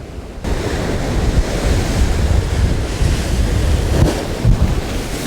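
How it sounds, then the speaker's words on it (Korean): An ocean wave crashes over the rocks at Cape Banks, Sydney, during rock fishing. It is a loud, broad wash of surf and spray with heavy wind buffeting the microphone and no break in the roar. "제대로 파도를 한 방 맞았어요."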